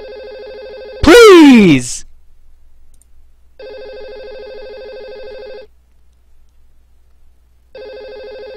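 A telephone rings in repeated long electronic trilling bursts separated by silent gaps. A voice speaks over one loud moment near the start.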